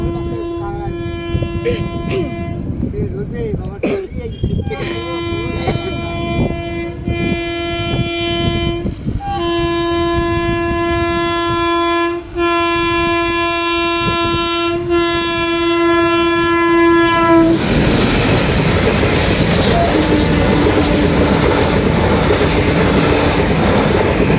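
A train passes close by, sounding long, loud horn blasts over rumbling wheels for about eighteen seconds, then gives way to broad roaring clatter as the cars rush past, with voices heard faintly.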